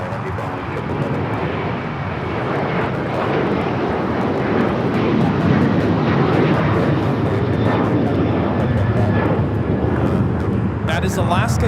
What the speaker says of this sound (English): That is Alaska Airlines 1330 taking off to Liberia on the 737-800.